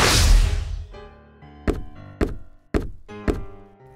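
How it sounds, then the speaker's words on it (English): A toy treasure chest tumbles off a play pirate ship into water: a soft splashy rush opens, then four distinct, sharp thunks and knocks follow at roughly even intervals, close and fairly loud, with no talking. "You just knocked that chest into the water."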